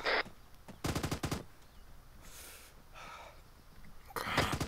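Machine gun fire in ArmA 3 during an armed convoy ambush: two short sharp bursts, then quieter gaps with faint rustling and breathing, then another loud burst at the end.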